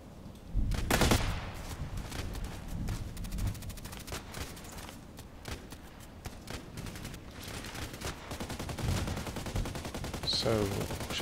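Rapid gunfire from a first-person shooter video game, bursts of automatic shots with crackling reports running steadily across the clip, loud and close, with no one talking.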